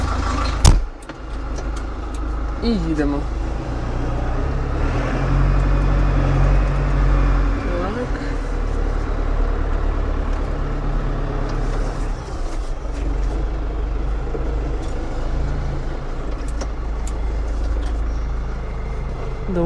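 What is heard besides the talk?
tractor engine running while driving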